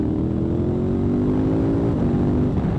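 A 2024 KTM Super Adventure S motorcycle accelerating in fourth gear, its engine note a loud, steady close-up drone that rises slightly in pitch, then changes tone near the end as a gear shifts, with wind noise underneath.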